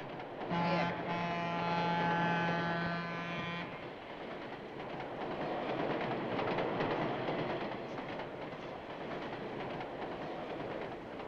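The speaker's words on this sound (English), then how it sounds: "The rocking of the train." Train carriage rattling and rocking along the rails, a steady broadband rumble with a loud horn-like tonal blast in the first few seconds, continuing as dense clattering noise throughout.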